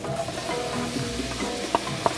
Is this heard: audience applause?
no